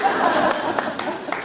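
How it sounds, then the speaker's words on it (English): Audience in a school gym cheering and clapping after a middle school music concert, a steady wash of applause with scattered whoops and claps, moderately loud and continuous. "We piped a concert into the gym and they're cheering for us."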